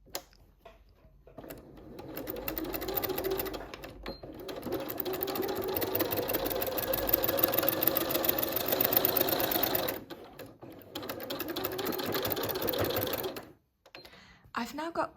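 A sewing machine runs in long steady bursts while chain-piecing rag quilt blocks, close and rhythmic, stopping briefly between runs.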